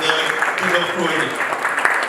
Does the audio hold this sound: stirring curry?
no